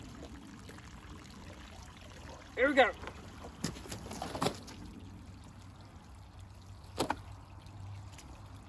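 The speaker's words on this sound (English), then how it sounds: "I've got to just fill it up with straight water until there's no soap left in it." Plain water pours into a tub to rinse soap out of a cowhide being tanned, a short splashing burst followed by softer trickles and clunks. Someone speaks briefly nearby.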